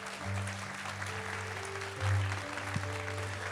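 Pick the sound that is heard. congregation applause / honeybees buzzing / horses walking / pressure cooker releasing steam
congregation applause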